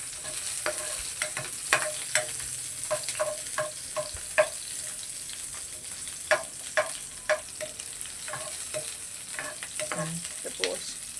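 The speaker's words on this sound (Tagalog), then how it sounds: "Ilagay ang sibuyas. Haluin ng 4 na araw." Onion fries in a pan while being stirred, a steady, close sizzle broken by sparse, sharp spatula scrapes and clicks.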